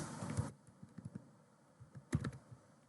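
Typing on a computer keyboard, heard as a quick burst of soft clicks, then scattered single taps, then another short burst. The keys are close but quiet, with no talking.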